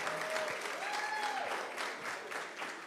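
Audience applause at a business event celebrating women leaders, a steady wash of clapping from a crowded room with a brief voice or tone rising faintly through it, holding even throughout.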